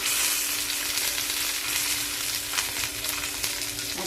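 Surmai fish fry in a hot pan with a steady, loud, dense sizzle that continues without a break the whole time.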